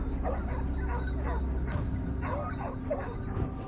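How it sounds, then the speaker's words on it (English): Pack of hunting hounds during a wild boar hunt, a chorus of excited yipping and baying barks repeating rapidly over a dense steady rumble, with faint voices mixed in. "The hounds were unleashed, their frantic bark signaling the start of the hunt."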